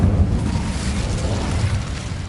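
Incendio fire spell from Harry Potter, a deep rumbling whoosh of flame with a heavy low boom that roars steadily for about two seconds.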